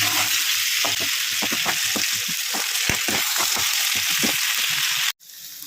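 Ginger paste frying in a spoonful of oil with loud, close sizzling and irregular scraping stirs, then an abrupt cut to a quieter sizzle near the end.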